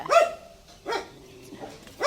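A pet dog indoors by a house door barks in three or four sharp, close bursts spaced about half a second to a second apart.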